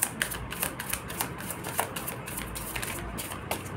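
Tarot cards shuffled by hand, a quick run of crisp flicking and riffling snaps close by, fairly soft and continuous, without talking.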